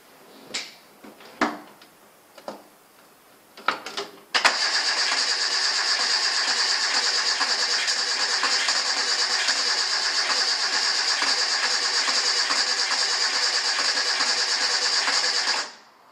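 Santana SJ413 engine cranking and starting: a few clicks and knocks, then a sudden steady, loud whirring run that holds evenly for about eleven seconds before cutting off.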